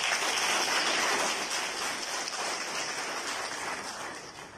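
Audience applause for teachers at a university felicitation ceremony, a thick, steady roar of many hands clapping together, loud at first and easing off slightly toward the end, with no speech.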